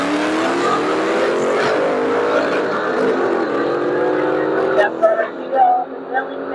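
A 1998 Ford Mustang Cobra with a naturally aspirated four-valve engine races on a drag strip, a loud sustained engine roar that fades into a few bursts of noise at the end, with voices in the background.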